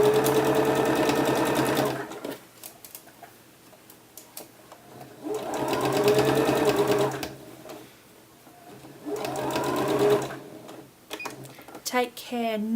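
Sewing machine running a 1/4 inch seam along the neckline of a peasant top, in three separate bursts of steady whirring stitching with quiet pauses between them.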